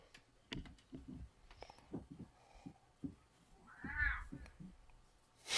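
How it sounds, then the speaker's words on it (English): A domestic cat meows in the background of a room, with several faint short mews and one longer, louder wavering meow near the end, under quiet sounds nearby. "Cat meowing in the back."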